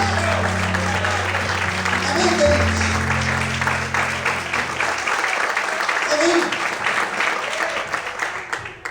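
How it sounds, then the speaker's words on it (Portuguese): A church congregation applauds loudly and continuously in praise while a sustained organ or keyboard chord plays underneath, and a preacher speaks briefly over the clapping. "Vamos poder aplaudir e glorificar Ele bem forte."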